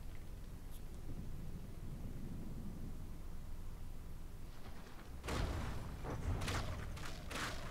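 Sixteen weapons fire together at the Titanic in the From the Depths naval game, a burst of heavy booming shots and thuds arriving after several seconds of low ambient hiss, with scattered follow-up impacts.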